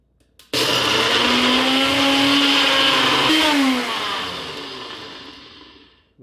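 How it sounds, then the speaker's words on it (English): A NutriBullet blender grinds Flamin Hot Cheetos with a loud, constant motor whine that starts suddenly, holds for about three seconds with a slight dip in pitch, then winds down gradually. "we're going to put it into the NutriBullet"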